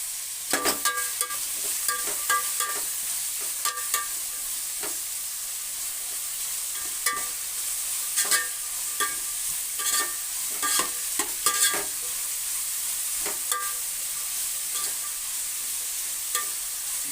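Chunks of capsicum fry over high heat in a pan, a constant sizzle punctuated by frequent sharp metallic scrapes and clicks as they are stirred briskly, close and with no talk.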